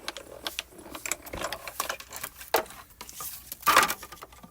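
A die-cutting machine cuts a wood piece for embossing, giving a quiet series of mechanical clicks, ratcheting and brief whirring bursts, with a louder crunching pass near the end and no talking.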